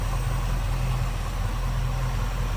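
A 1969 Ford Mustang Fastback with a 390 V8 idles steadily, a loud, even low rumble with no gaps, heard close to the engine bay.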